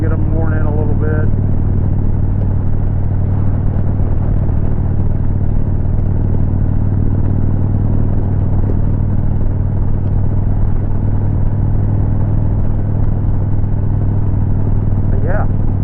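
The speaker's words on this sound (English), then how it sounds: "Kawasaki Vulcan 2000. Not a bad price for a pretty much production muscle bike." Kawasaki Vulcan 2000 production muscle cruiser motorcycle on fairly new tires, its engine a steady deep rumble throughout while riding, close and loud with a brief higher note at the start and end.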